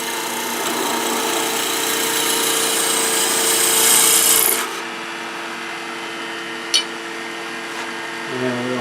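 A miniature wooden bird house on a stand is parted off on a spinning wood lathe, with a loud, steady scraping rasp that rises and then stops abruptly, followed by the lathe's hum, a sharp tick and a faint scrape.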